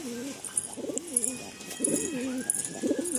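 Pigeons coo in a series of soft, rolling calls in a loft, with short pauses between them and faint chirps and rustling in the background.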